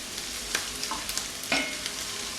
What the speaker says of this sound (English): Stir it into the onion.